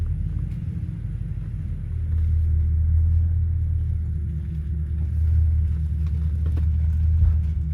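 Idling car engine rumbling low and steady after a BTR transmission service on a Barra-engined vehicle, with small swells as it shifts from reverse straight into drive; no talk.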